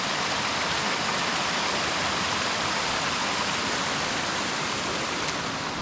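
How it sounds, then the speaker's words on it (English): Water rushes steadily over and through a rebuilt beaver dam, a continuous close, loud broadband roar with no breaks. "And water rolls on down through there."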